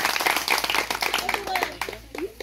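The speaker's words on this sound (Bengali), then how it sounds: "দিদিদের জন্য আগে প্রথমে আমরা একটু জোরে হাততালি দিই" Audience applause during a workshop on communication skills through sports: a dense burst of clapping that thins out, then gives way to a voice talking near the end.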